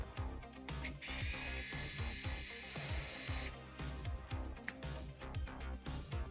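An Injora electric screwdriver with a nut driver bit works a hub nut: a steady, close motor whine with short bursts and stops, a brief high hiss partway through.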